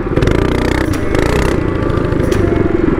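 Baja mini bike powered by a Predator 212cc engine revs hard, a loud, close, rough, buzzing single-cylinder roar with clattering pulses and no talk.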